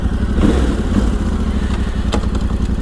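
A Yamaha Tenere 700 adventure motorcycle engine runs steadily at a low rumbling idle with mechanical clatter, loud and close throughout, with no voices over it.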